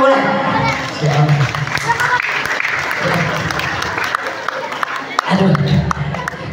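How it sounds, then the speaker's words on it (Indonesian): Sustained audience applause fills a room during a humorous Islamic lecture in Tambun, Bekasi, with dense clapping, crowd chatter and voices mixed in; it swells near the start and again toward the end. "Ya boleh tepuk tangan boleh."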